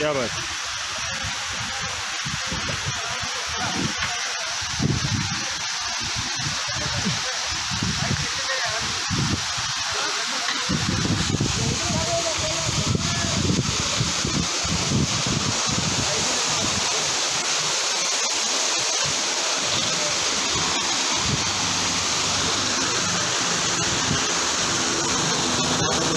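A famous waterfall on the trail to Kedarnath roars steadily throughout as a broad, constant rush of falling water, with a voice speaking briefly over it.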